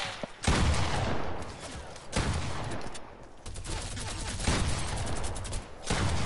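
Fortnite gunfire in a crowded fight: several bursts of shots and volleys come in waves, loud and close, with brief gaps between them and no talking over them.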